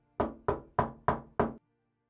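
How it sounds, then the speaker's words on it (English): Five firm knocks on the wooden door of a closed orphanage in the game Nocturne, evenly spaced and close, followed by silence. "Let's knock."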